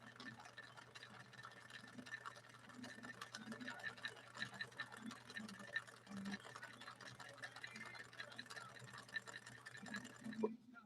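A 1961 Viki sewing machine runs slowly, stitching with fragile Sulky 40 wt German embroidery thread, giving a steady low mechanical hum with soft rhythmic ticking throughout, fairly quiet and continuous.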